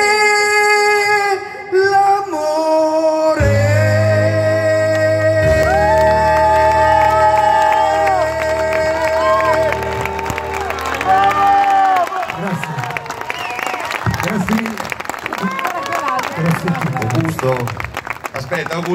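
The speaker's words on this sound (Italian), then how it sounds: "Augusto, dai un altro applauso!" At the outdoor Notte delle stelle show in Tavoleto, music and singing give way to a crowd clapping and cheering, a loud, dense wash of applause with scattered whoops while voices carry on over it.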